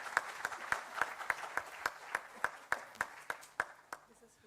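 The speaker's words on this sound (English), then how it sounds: "Let us have a huge applaud for Professor Anil Kumar." Audience members at a state consultative meet on school students' mental health clap in a sparse, evenly spaced rhythm, each sharp clap distinct over a quiet room, fading near the end.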